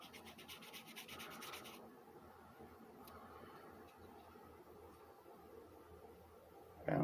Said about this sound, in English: every new Dodge Gray Bow that I get or whatever, I'll take a piece of sandpaper and go